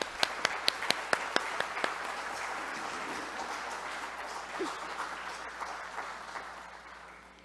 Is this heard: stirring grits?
no